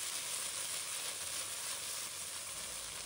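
Tofu sizzles steadily as it fries in hot oil in a wok, a dense, even hiss that holds constant and close with no pauses or talk.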